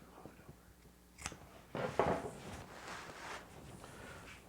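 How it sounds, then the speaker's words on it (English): Scissors snip through excess wide carpet binding at a mitered rug corner, a couple of close, crisp cuts around the middle with quieter handling noise before and after. "cut off this excess right here"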